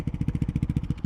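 A Ducati Hypermotard 698 Mono single-cylinder motorcycle with an Akrapovic exhaust idles close by, its deep, even thumping pulses repeating in a quick, regular beat.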